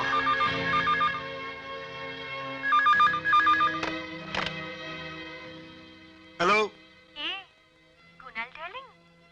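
A telephone rings in an emotional Bengali film drama scene: two short bursts of warbling electronic ringing, then voices speak and exclaim in the foreground.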